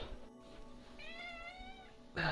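A domestic cat lets out a single drawn-out, wavering meow at moderate distance over a faint background hum, followed by a brief burst of noise at the end.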